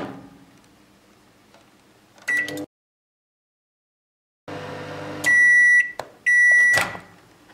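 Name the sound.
microwave oven running and beeping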